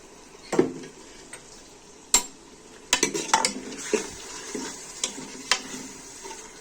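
Beef and chana dal are stirred and fried in about two spoons of ghee, with a soft sizzle underneath and sharp, irregular clinks and scrapes of a spoon against the pot, close and alone.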